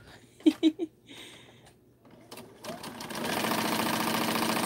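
Sewing machine stitching quilt seams, starting after a few brief knocks and rustles, then running as a steady, even mechanical whir that holds at a constant level to the end.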